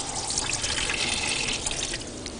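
Water pours steadily while cooking, a continuous hissing splash that stays fairly loud and unbroken for the whole couple of seconds, with no talking over it.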